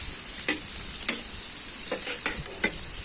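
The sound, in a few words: paella with seafood cooking slowly over a fire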